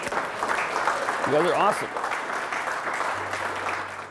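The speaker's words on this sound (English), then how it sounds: "give yourselves a huge round of applause" Veterans give themselves a round of applause, steady clapping from a gathered group at moderate distance, with someone speaking over it and a brief whoop rising above the crowd.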